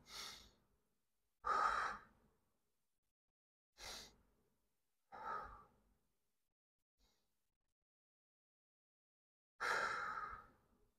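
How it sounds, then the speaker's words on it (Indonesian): Deep, slow breaths drawn and released during a hypnotherapy session for migraine, several long sighing exhalations spaced a few seconds apart, close and clear against silence. "tarik nafas 3 kali ya"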